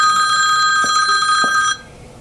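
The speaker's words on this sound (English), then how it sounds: "Whose phone is ringing?" Phone alarm ringing indoors, a loud steady electronic trill that cuts off abruptly after under two seconds, with no talk over it.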